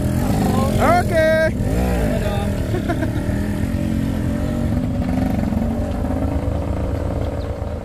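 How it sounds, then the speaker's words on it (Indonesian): A motorcycle on a road at Batu Jombar, Indonesia, revs and passes close by, its engine loud and rising then settling into a steady drone, with people talking over it. "Motorcycle."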